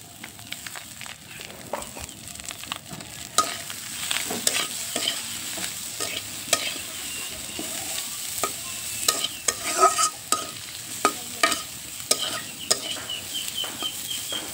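Onions fry in a pan with broken-up chanda fish while a utensil stirs and scrapes, making an uneven run of clattering strokes over a steady sizzle, with a faint rooster far off.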